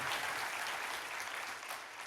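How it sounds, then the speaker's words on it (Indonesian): A church congregation applauds, a continuous wash of clapping from many hands at moderate distance, steady and fairly soft with no voices over it. "Yang percaya berikan tepuk tangan buat Allah kita"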